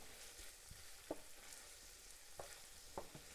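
Minced garlic frying in a pan with onions and sausage, stirred: a soft, steady sizzle with occasional scraping clicks from the spoon, faint and close, with no voices.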